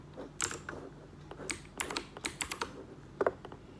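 Keystrokes on a computer keyboard while entering text into a web app, a quiet irregular patter of clicks and short bursts with no talk.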